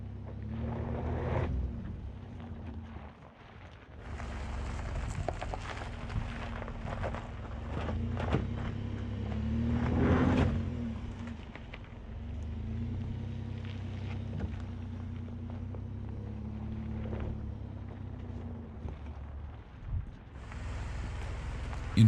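A 2021 GMC Canyon AT4 pickup climbs off-road in four-wheel drive, its engine a low steady drone with surges and rumbles, mixed with wind buffeting the microphone throughout.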